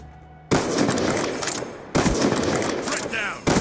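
Loud, dense automatic gunfire from a first-person shooter game with a Ballista weapon, arriving in three long sustained bursts with brief gaps between them.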